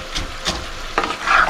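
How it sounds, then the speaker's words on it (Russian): Vegetables sizzling and frying in a pan with a couple of stirring scrapes, a steady close crackle rising slightly near the end. "Пускай она немножко начнет жариться, так тушиться."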